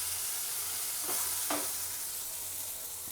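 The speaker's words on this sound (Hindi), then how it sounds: "आप इसको जितना अच्छा फ्राई कर देंगे ना, उतना अच्छा टेस्ट आएगा आपको" Eggplant for baingan bharta frying in a pan, a steady soft sizzle with two brief louder stirring scrapes near the middle, close and continuous with no talking.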